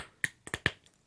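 Three sharp, close snapping clicks spaced a fraction of a second apart come from 3D printed clock gear filament grabbing as it slides against itself, with no voices.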